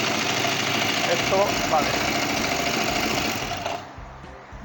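A Kawasaki Vulcan 500 motorcycle with freshly repaired and synchronized carburetors idles loudly and steadily up close, then its sound drops away near the end, with someone speaking briefly over it.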